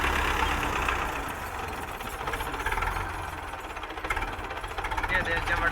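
Belarus 510.1 or Fiat 640 tractor engine running steadily with a rough, knocking idle, loud and continuous throughout, with people talking nearby over it.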